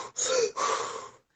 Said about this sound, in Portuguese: E aí eu respiro exageradamente na frente dele